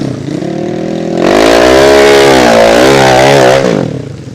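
A motorcycle stuck in thick mud on a forest road at Alas Roban, Central Java, revs hard and loud, its engine climbing and wavering in pitch for a few seconds before easing off.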